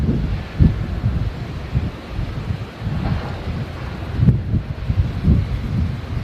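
Gusty wind on the dunes near Starbase rumbling heavily against the microphone, surging and easing in loud low-pitched blasts.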